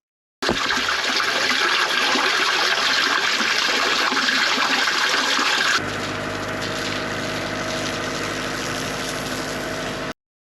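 Rainwater rushes fast down a blocked gully drain in a loud, unbroken torrent up close. Partway through, the flow drops to a steadier, lower gurgle.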